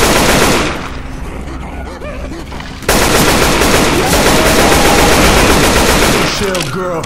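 Rapid automatic gunfire in the co-op zombie shooter Left 4 Dead 2, loud bursts that drop off briefly and then resume as a dense sustained rattle, with game voices calling out over it.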